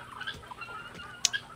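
Farm poultry, a mix of ducks, turkeys and geese at a farmhouse under construction, give faint, scattered squawks and honks, with one sharper call standing out near the end.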